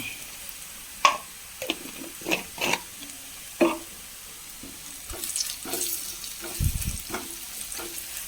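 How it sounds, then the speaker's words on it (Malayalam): Onion and crushed chili fry in oil with a quiet, continuous sizzle, broken by several sharp clicks and scrapes of stirring, and the sizzle swells toward the end. "ഒന്ന് മൂത്തോട്ടെ മുളകൊന്ന് നമ്മുടെ ഉള്ളി മുളകൊക്കെ മൂത്ത് വന്നിട്ടുണ്ടെങ്കിൽ"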